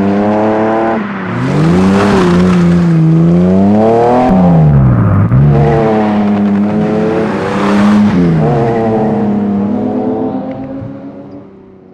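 A BMW 333i engine revs on a dyno, rising and falling in pitch through several loud sweeps, then trailing off at the end. The sound is near, with no talk.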